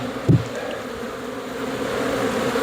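Honey bees hum steadily around an open horizontal hive during an inspection, a low continuous drone close to the microphone with one brief louder burst near the start.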